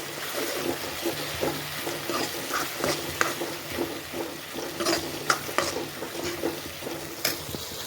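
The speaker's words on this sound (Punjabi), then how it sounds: "ਹੁਣ ਇਸ ਵਿੱਚ ਆਪਾਂ ਛੋਲਿਆਂ ਦੀ ਦਾਲ ਨੂੰ ਐਡ ਕਰਾਂਗੇ ਚੰਗੀ ਤਰ੍ਹਾਂ ਮਿਕਸ ਕਰਾਂਗੇ" Chana dal being stirred in a hot pan of oil while preparing a Punjabi vegetable dish, with a steady sizzle and frying crackle broken by repeated scraping strokes and soft clinks of the spoon, continuous and close with no voices.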